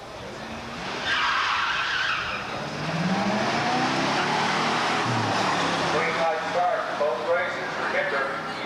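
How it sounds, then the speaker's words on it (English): A 1972 Pontiac Formula Firebird with a 455 engine and four-speed runs at a 1985 muscle car drag race, with loud tire squeal and engine roar under an announcer's voice. "it's Jim Phillips driving a 72 Pontiac Formula Firebird, a 455 with the 4-speed"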